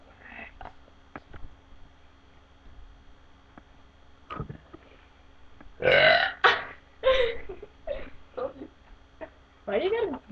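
A loud burp from a young woman bursts out near the middle, followed by more burps and loud laughter and chatter from a group of girls, after a quieter stretch of faint talk.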